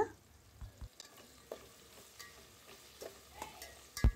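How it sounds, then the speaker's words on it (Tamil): Onions sautéing with rock salt and curry leaves in a home kitchen, a soft low sizzle under intermittent stirring scrapes and light taps of a utensil against the pan, ending in a louder knock. "வெங்காயத்தை ஆட் பண்ணிவிட்டு கொஞ்சமாக கல் உப்பு சேர்த்துட்டு இது நல்லா வதக்க ஆரம்பிச்சிடலாம்"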